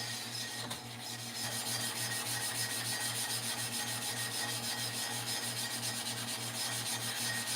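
A sharpening plate being primed before clipper blades are sharpened, heard as a steady close grinding rasp with a rhythmic pulsing drone throughout and no talk.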